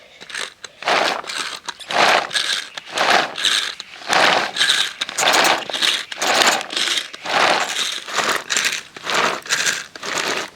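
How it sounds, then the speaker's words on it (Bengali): A hand-pulled manual chopper chops raw mango for pickle, making a steady series of about fourteen loud, close, crunchy whirring strokes with short pauses between them. "যাদের কাছে এরকম চপার রয়েছে বাড়িতে, অবশ্যই করে কিন্তু চপারে চপড করে নিতে পারেন"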